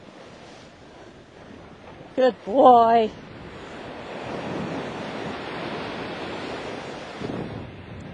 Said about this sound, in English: Let him get used to those waves coming